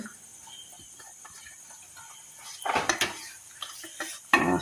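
Cooked potatoes and carrots are tipped into a pot of dhaba-style mixed vegetable gravy with a utensil, giving a few loud metallic clanks and scrapes near the end over quiet kitchen background.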